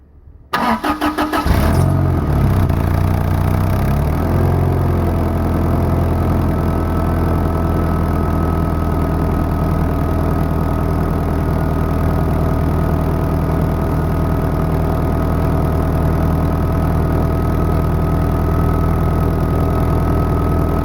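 A 1999 Toyota Tacoma 2WD starts up, then settles into a steady idle through a very big, quiet muffler, a smooth low rumble that runs evenly and continuously without talk.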